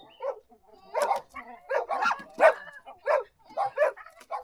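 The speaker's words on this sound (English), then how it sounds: "I can hear dogs in the background." A dog barks repeatedly in short, sharp yips at an uneven rhythm, fairly close and clear, with quiet pauses between barks.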